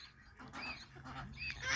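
Chinese and Toulouse geese honk a few times at close range over a soft background, short nasal calls spaced out and growing slightly louder toward the end.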